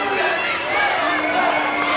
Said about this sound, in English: the crowd here at the TNA Asylum with their chants of Jerry's kid